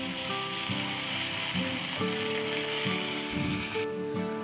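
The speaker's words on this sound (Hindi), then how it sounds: "इसी तरह से हम कटे हुए आलू को भी तेल में डाल के अच्छे से फ्राई कर लेंगे।" Cut potatoes frying in oil in a kadhai, a steady sizzle with occasional soft stirring knocks, close and with no talking.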